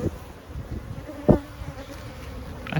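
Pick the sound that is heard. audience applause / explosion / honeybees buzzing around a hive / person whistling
honeybees buzzing around a hive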